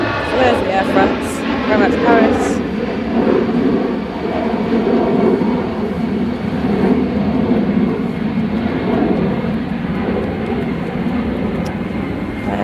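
A departing jet roars at Manchester Airport, loud and close, with the steady engine rumble filling the scene while a commentator talks throughout.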